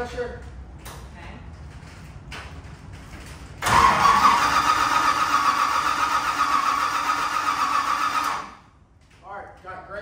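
A car engine, fresh from an oil change, cranks briefly and fires up into a loud, steady idle that holds for several seconds before being shut off, with faint talk nearby before and after.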